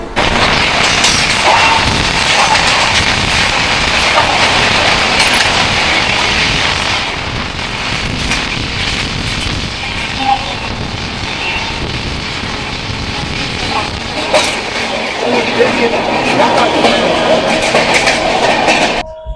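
Sealdah–Puri Duronto Express pulling out of Sealdah station, heard from on board as a loud rumbling train with metallic rattles and clicks over the rails that ease a little partway through and come back in bursts.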